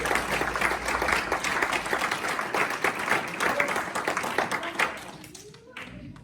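A church congregation applauds loudly with dense, continuous clapping and voices mixed in. The applause fades quickly near the end.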